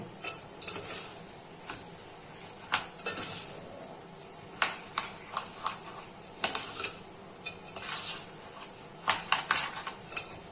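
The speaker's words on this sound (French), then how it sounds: "on va venir rajouter l'eau. On mélange bien." Rice being stirred with added water in a pan for a Thai-style shrimp rice, a spoon scraping and clinking against the metal in irregular bursts over a soft background, with no talking.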